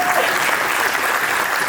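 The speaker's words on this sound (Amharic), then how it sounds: "አጨብጭቡለት" Steady applause from a small crowd at a family anniversary celebration, a dense even clapping that holds at the same level throughout.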